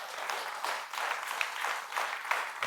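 A devotional audience claps in a steady rhythmic pattern, faint and somewhat distant, in praise of Baba.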